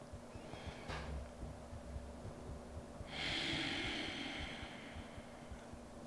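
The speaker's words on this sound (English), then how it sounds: "Two more full breaths." A slow, deep breath held through a demanding yoga pose, with a soft airy inhale and a louder, sustained rushing exhale in the second half, close and quiet with no talking.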